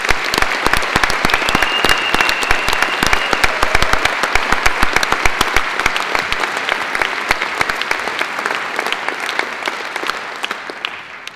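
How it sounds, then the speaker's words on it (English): Enthusiastic applause for musicians from a university graduation ceremony audience, dense clapping that holds steady for several seconds before gradually thinning out. "Please join me in giving them a warm round of applause."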